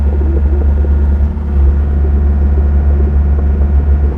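Heavy equipment driving slowly, a steady low engine rumble that holds at an even level throughout with no talk.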